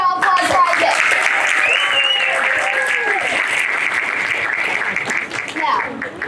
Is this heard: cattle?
no